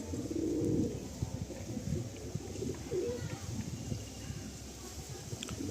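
A Madrasi pigeon from a Kalanka pair, held in the hand for inspection, gives low soft coos beneath a voice and handling noise.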